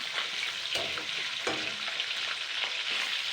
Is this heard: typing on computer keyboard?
no